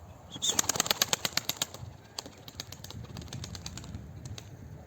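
A burst of wings flapping rapidly as a female pigeon takes off in training flight, a fast rhythmic flutter that fades into softer flapping and ambient noise.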